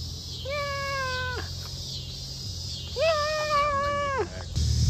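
Two drawn-out cat meows with rich harmonics, close and clear, one after another about three seconds apart, from a cat being petted outdoors in Chicago.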